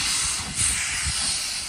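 A real steam train, decorated with Māori faces and coloured lights for a New Zealand Māori New Year ride, gives off a steady, loud broadband hiss of steam, with low rumbling pulses underneath and no talk.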